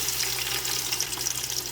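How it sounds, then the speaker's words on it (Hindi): Large chopped onions sizzle in about half a cup of hot oil, a brief steady crackling hiss close by without any voices. "ऑयल हमारा गर्म हो गया, इसमें हम प्याज डालेंगे।"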